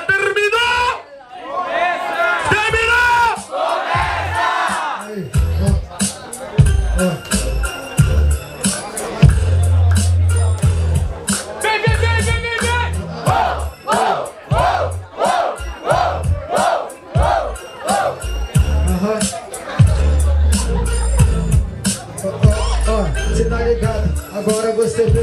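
A crowd at a hip hop freestyle battle cheers and shouts loudly and without a break, with a voice over a microphone heard through the noise.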